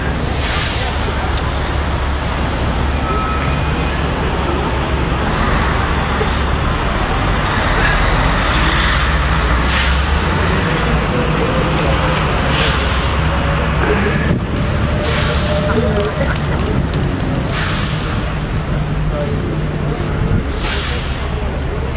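Dense London road traffic around the Houses of Parliament, heard from aboard a sightseeing bus on a Tuesday morning: a steady loud rumble of engines and passing cars, with occasional brake hiss and hard-edged bursts, while people talk faintly.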